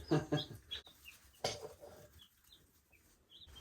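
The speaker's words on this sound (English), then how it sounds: "They're chirping and moving around, sleeping." Faint, high chirps from newly arrived meat chicks come scattered and sparse, with a couple of soft rustling bursts near the start before things go quiet.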